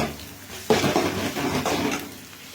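Onions sautéed with pepper powder in a pan for egg rice, heard as a stirring spatula scraping and tossing through a soft sizzle, starting abruptly and continuing in uneven strokes.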